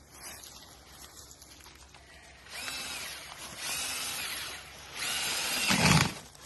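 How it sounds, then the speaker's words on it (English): Several short bursts of a power drill whirring, quiet at first and growing louder, with a rough grinding last burst and pauses in between. "drill me a hole right there."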